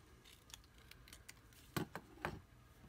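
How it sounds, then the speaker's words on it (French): Scissors snipping through paper card for a handmade peacock-themed greeting card, a few soft separate cuts, with two louder, closer snips near the end in an otherwise quiet room. "je viens tout simplement découper ici, encore au ciseau, au milieu"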